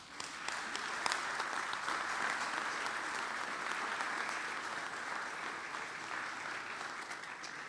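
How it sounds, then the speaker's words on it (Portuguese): A church congregation at a Saturday service applauds in a dense, steady wash of clapping that holds at an even level from start to end, heard at moderate distance. "Vamos aplaudir."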